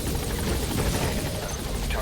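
Pequod helicopter from Metal Gear Solid V: The Phantom Pain, a steady, loud rotor and turbine roar that fills the whole stretch, with voices faintly underneath.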